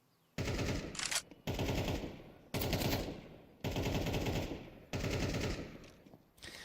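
Rapid automatic gunfire during a competitive video game match, with several long, loud bursts separated by short pauses and no talk over them.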